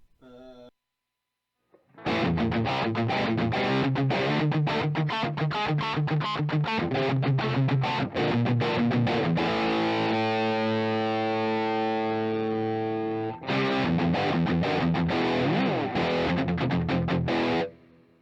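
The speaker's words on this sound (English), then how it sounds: "just for a distortion plus pedal and a couple of cab simulants" Heavily distorted electric guitar through a Distortion Plus pedal and cab simulators, playing loud chugging riffs and sustained chords, with a brief pause early and a held chord near the end.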